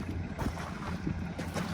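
Wind gusting on a windy outdoor day at a rain water tank installation site, a rough, buffeting rush over the microphone that swells and eases across the short clip.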